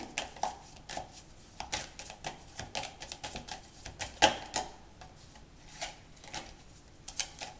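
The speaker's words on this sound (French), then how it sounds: "Je vais quand même tirer une carte sur les énergies du passé." Tarot cards shuffled in quick, crisp riffles and flicks, then a single card drawn, close and alone with no talk.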